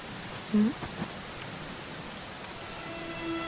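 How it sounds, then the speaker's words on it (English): Steady rain pours in the Dragon Quest XI video game, a continuous dense hiss with a brief soft chime near the start and a faint tone near the end. "it was raining like this the last time I ever saw her"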